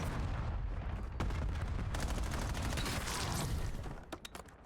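A cluster grenade goes off in Call of Duty, a dense burst of overlapping explosive booms and crackling blasts that rolls on for several seconds, then breaks into a few sharp trailing pops.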